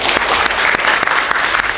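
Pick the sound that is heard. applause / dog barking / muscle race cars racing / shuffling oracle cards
applause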